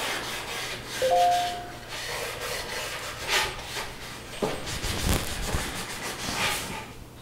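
Cloth rubbing excess finish off a dry wooden vinyl record display, a series of soft scrubbing and wiping strokes up close with a few brief squeaks, no voices.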